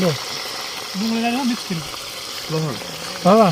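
Chopped onions frying in a pot for a Gujarati aubergine curry, giving a steady bright hiss that runs under several short, lilting voices.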